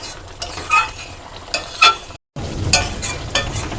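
Stuffed pointed gourds cooking in bubbling gravy in a pan, with close sizzling and stirring scrapes in a few short bursts and a brief dropout midway.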